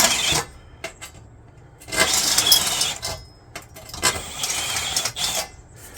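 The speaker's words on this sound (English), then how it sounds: "Go back in and just touch it with the other side, and it'll deburr all the holes." A drill with a step bit deburrs freshly drilled holes in a part for a Studebaker bus, in short gentle bursts of grinding and scraping separated by brief pauses.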